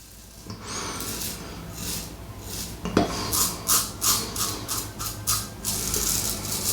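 An aluminium REX safety razor scrapes across skin in a series of short, rhythmic rasping strokes, close and fairly quiet, with no talking.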